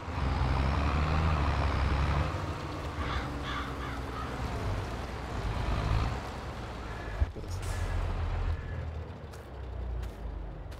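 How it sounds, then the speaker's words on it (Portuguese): Truck manoeuvring in the farming game Farming Simulator 22, with a steady low engine rumble throughout, a brief sharp hiss near the middle like an air brake release, and faint game ambience in the background. "Manobrar aqui o caminhão."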